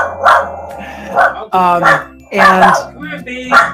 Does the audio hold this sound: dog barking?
yes